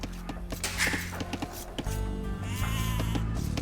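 In an Age of Empires style Art of War campaign, game sheep bleat several times among clicking interface sounds and clinks, with short bursts of villager voice chatter following.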